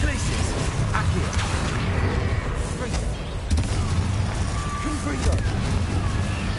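Spell explosions cast with Confringo and Bombarda in the video game Hogwarts Legacy: a dense, rumbling stream of booms and blasts runs throughout, with a voice talking over the din.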